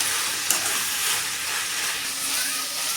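Tomatoes sautéing in a pan for a fish kuzhambu, producing a steady, moderately loud sizzling hiss that carries evenly throughout with no talking.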